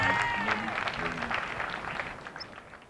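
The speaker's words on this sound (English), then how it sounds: "I was wondering whether the cheering and clapping had an effect on these dogs." Crowd clapping and cheering at a gundog working test team competition at Ragley Hall, a burst of applause from many hands that slowly fades over a few seconds, with voices mixed in.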